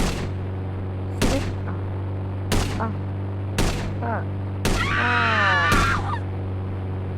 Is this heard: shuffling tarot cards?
no